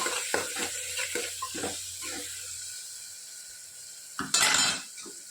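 Spices such as garam masala, coriander-cumin powder and salt being stirred and roasted in a pan, with a few scraping clinks of a spoon against metal and a soft sizzle, ending in a louder burst of frying hiss.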